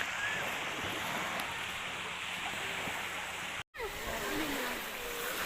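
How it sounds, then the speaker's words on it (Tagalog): Sea waves at a beach in Alitagtag, Batangas, rough with high surf, give a constant loud roaring wash with a brief dropout partway through. "Taas ng alon."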